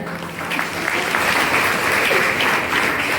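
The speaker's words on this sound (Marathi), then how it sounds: "जोरात टाळ्या" Loud, sustained applause from an audience at an award ceremony, a dense continuous clatter of many hands clapping that fills the whole stretch without letting up.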